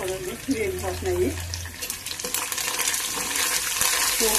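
Curry leaves and ginger sizzle in hot oil as a tempering, a dense steady hiss that rises in the last few seconds, with a brief voice-like murmur near the start.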